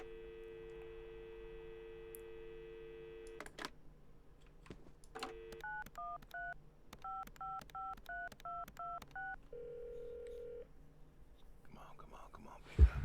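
A phone number dialed on a telephone, a run of clear two-tone keypad beeps in short bursts, followed by a steady ringback tone, close and alone over a faint hum.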